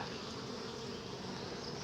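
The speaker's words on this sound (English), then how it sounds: "that is the only male bee you will find in a colony is the drone" Honeybees buzz steadily over drone brood comb, a dense, continuous hum from many bees close by, with no talking.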